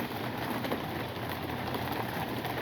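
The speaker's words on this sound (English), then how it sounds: "It's hail." Hail pelts a hard surface outdoors in a continuous, dense patter of small impacts, close and fairly quiet, with no voices.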